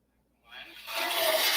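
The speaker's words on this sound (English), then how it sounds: "Flush the toilet." A toilet flushes indoors, starting abruptly after a moment of silence with a rising, hissing rush of water that grows louder and keeps going to the end.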